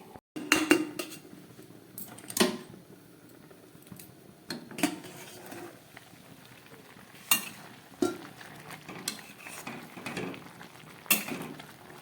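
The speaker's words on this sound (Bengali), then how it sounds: "এই যে গ্যাস ধরিয়ে দিয়েছি, কড়াটা বসিয়ে দিলাম।" A metal wok is set down and covered on a lit gas stove to boil banana flower with chickpeas, giving sporadic close clanks and lid clinks over a faint simmering hiss.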